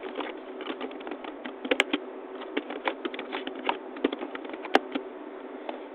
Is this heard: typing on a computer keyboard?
yes